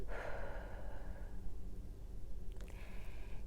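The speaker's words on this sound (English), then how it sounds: "and then you breathe out." A slow, calm exhale during a relaxation breathing exercise, a soft airy sigh close to the mic that fades out over a few seconds against a quiet low background hum.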